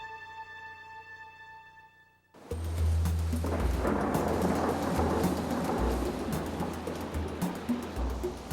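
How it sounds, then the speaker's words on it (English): Heavy rain and thunder in a Central and South American tropical rainforest, a loud steady downpour with deep rumbling that keeps up after a quiet start with soft tones. "the tropical rainforests of Central and South America"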